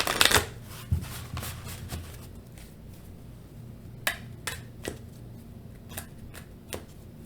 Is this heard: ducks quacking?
no